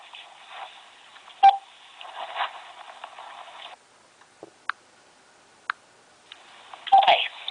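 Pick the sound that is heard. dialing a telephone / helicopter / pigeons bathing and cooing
dialing a telephone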